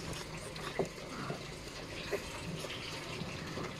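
Water splashes and gushes steadily as it is poured over a dog being bathed, a continuous wet wash with a couple of brief louder splashes, close by and fairly quiet.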